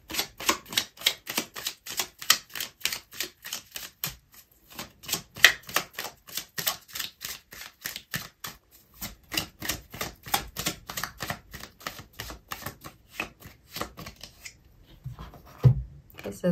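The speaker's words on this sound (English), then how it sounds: "I'm going to pull out another card for you" Tarot cards being shuffled and pulled from a deck during a reading, a long run of quick, crisp papery flicks and snaps in a steady rhythm, close and fairly faint, with brief pauses.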